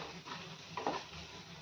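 Soft scraping and stirring of thick mutton curry masala in a pot after a pinch of salt goes in, quiet and close with a faint sizzle, no voices.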